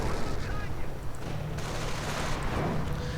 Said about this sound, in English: Nebelwerfer fire raking everything